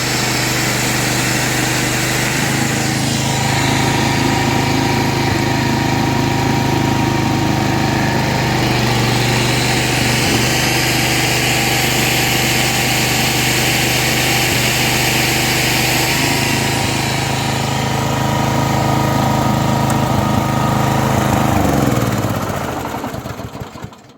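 A GAB 1-0/230 generator converted to run on a Chinese engine, droning loudly and steadily up close with small shifts in pitch before it shuts down and winds to a stop at the end.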